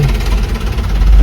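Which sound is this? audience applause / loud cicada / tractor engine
tractor engine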